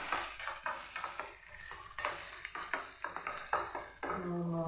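Chili powder fries in oil for lemon pickle, giving a quiet, steady sizzle as a spoon stirs and scrapes the pan in a quick, irregular rhythm.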